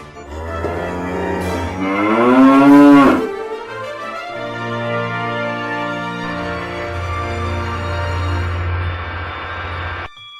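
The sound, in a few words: cow mooing in Thomas and Friends cartoon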